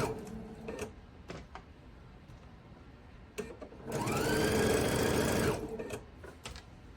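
A sewing machine stitches a seaside quilt block, running in a steady, close whirring burst of about one and a half seconds between quieter clicks and handling noises.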